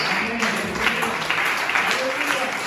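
A congregation claps steadily during an evangelical church service, the dense applause running throughout beneath a loud voice speaking over it.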